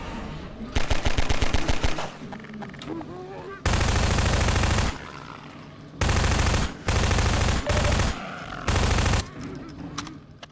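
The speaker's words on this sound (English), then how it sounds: "I just love shotgun in zombie games." Gunfire in the video game Half-Life 2, heard as loud, close bursts of rapid automatic shots separated by brief pauses, with game sounds and some talk in between.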